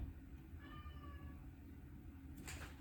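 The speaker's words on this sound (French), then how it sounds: "y a le chat qui veut venir" A domestic cat meows once, a drawn-out mid-pitched call near the start, heard indoors over a low steady room hum, with a faint brief rustle near the end.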